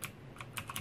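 Keys struck on a Motospeed CK 888 mechanical gaming keyboard: a handful of crisp, close clicks in quick uneven succession, clear and alone with no voices.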